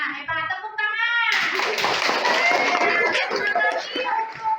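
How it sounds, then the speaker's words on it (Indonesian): Children in a classroom clap together for a group presentation at a teacher-training lesson, a dense, steady burst of many hands starting after a brief voice and continuing loudly to the end. "Nah, hebat, tepuk tangan."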